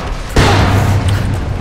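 A loud boom bursts in the Tomb Raider video game as gas in a cave ignites, a sudden explosion followed by a heavy, sustained roaring rumble.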